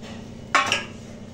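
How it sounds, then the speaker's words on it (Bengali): A metal lid comes off a cooking pot in one brief clatter with a short ringing scrape, set against a steady low kitchen hum and quiet background. "এবার ঢাকনাটা খুলে"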